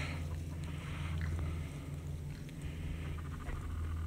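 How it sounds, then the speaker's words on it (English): Chickens cluck quietly on a farm where geese are also kept, faint and a little distant, with a steady low hum running underneath. "Look at the chickens!"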